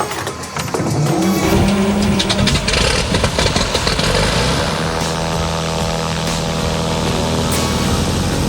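A small airplane's engine is started with the key: after a brief crank it catches and roars up into a loud, close, steady running drone that holds to the end.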